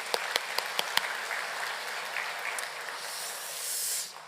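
Congregation clapping in a church at a Sunday morning worship service, opening with a few sharp separate claps that swell into steady moderate applause filling the sanctuary before fading.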